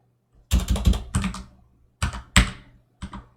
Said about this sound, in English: I'm just gonna type it out.